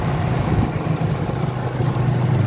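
Opel Astra H engine idling with its air conditioning compressor running, a steady close-up mechanical hum with a low droning tone that holds evenly throughout, with no speech.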